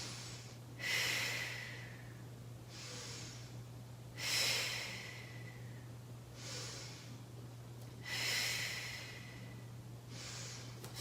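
Rhythmic, audible breaths during a core workout, a handful of loud airy inhales and exhales spaced roughly every two seconds, close to the mic over a steady low hum, with no talking.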